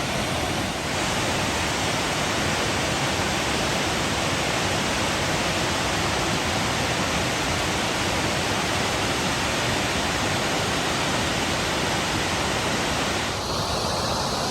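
A big waterfall beside a hiking trail on a March thru-hike, roaring as a loud, constant broadband rush that fills the whole stretch without pause.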